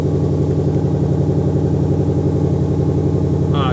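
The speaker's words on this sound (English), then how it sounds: "And then you have the loud exhaust mode available right here." A rare Ford Mustang's exhaust set to loud mode burbles at idle, a deep, steady pulsing rumble filling the clip close up, with a brief higher sound at the very end.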